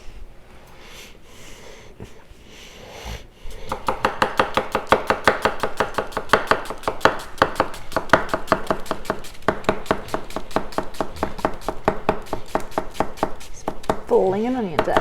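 A Takamura Japanese kitchen knife chops onions on a cutting board: after a quiet start, a rapid, steady run of close, crisp chopping strokes continues to the end.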